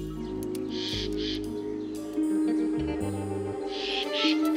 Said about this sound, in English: It's the jay, an annoying neighbor at the best of times.